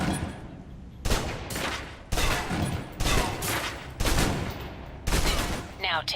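Gunfire in the video game Alpha Protocol, five dense bursts of rapid shots about a second apart, loud and close, each trailing off in a rattling echo.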